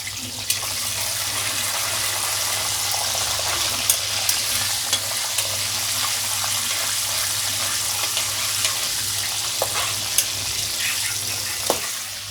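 Green chillies fry in a pan for chicken curry, a steady close sizzle with occasional light pops and stirring clicks throughout.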